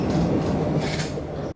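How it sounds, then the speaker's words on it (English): An R5 regional train running through the Barcelona area produces a low, steady rumble with soft rolling rail noise, fading briefly before a sharp tonal chime or announcement tone cuts in at the end. "And we start off with the R5 train."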